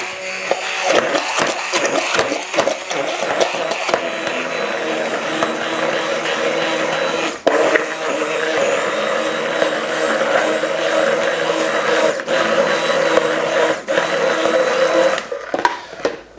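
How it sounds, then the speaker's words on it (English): A stick blender blending cheese whirs continuously at high speed, buzzing steadily with brief dips and clicks, close and fairly loud, no talking. "I'm gonna get my stick blender"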